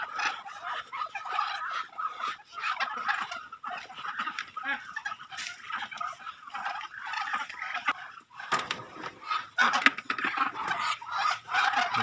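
Hungry Muscovy ducks crowd together waiting for food, producing a steady, close chorus of soft hissing, chattering calls and rustling that carries on without pause, with no voices.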